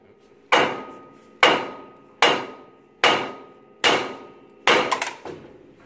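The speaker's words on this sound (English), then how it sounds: "to get this thing out, you're going to hit it right here with the hammer" A hammer strikes the ball joint on a 2002 Ford E-150 six times in a steady rhythm, giving sharp, loud metallic blows, each ringing off briefly before the next.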